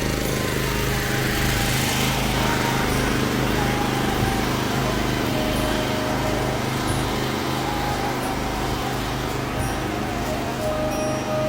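A generator engine powering a mobile network tower runs steadily and loudly throughout, a constant droning hum with a rough, buzzing mechanical texture and no pauses.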